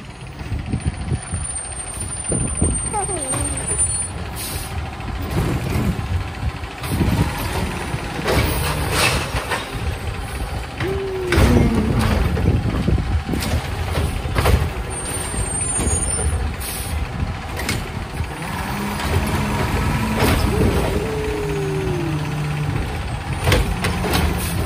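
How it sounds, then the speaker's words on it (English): Garbage truck on its collection round, a loud rumbling engine with repeated sharp hisses of air brakes and intermittent reversing beeps, close and continuous throughout. "Where's the garbage truck?"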